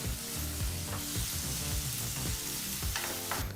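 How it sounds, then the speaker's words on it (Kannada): Chopped onion frying in a pan over a medium flame, a steady dense sizzle with occasional scrapes and clicks of stirring throughout. "ಈಗ ಈರುಳ್ಳಿನ 2 ರಿಂದ 3 ನಿಮಿಷಗಳ ಕಾಲ ಮೀಡಿಯಂ ಫ್ಲೇಮ್ನಲ್ಲೇ ಚೆನ್ನಾಗಿ ಫ್ರೈ ಮಾಡ್ಕೋಬೇಕಾಗತ್ತೆ."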